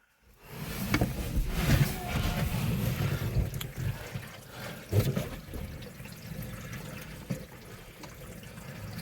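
Steady rushing spray of water drums against a Hyundai Avante CN7 in a trunk leak test after a rear-end collision, close and continuous, with occasional louder bursts and thumps.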